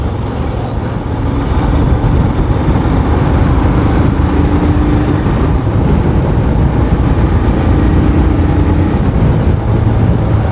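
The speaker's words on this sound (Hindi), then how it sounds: "इंजन का नॉइज़ जो आवाज़ है" A steady, loud Royal Enfield Scram 411 motorcycle engine drone with a low rumble and wind noise, sustained throughout, recorded while riding.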